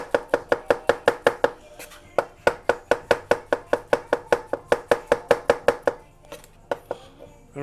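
Mushrooms sliced with a knife on a cutting board, a fast, steady run of crisp, close chopping taps in two quick bursts with a short pause between them.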